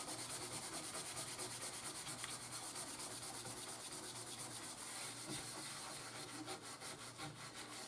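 An SOS pad scrubs baked-on food off a baking sheet with a steady, close, raspy back-and-forth rubbing that stays even and continuous throughout.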